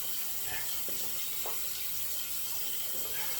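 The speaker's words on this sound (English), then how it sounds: "So we'll rinse the brush out" Tap water runs steadily while a shaving brush is rinsed under it, a soft continuous splash with small bursts of sloshing.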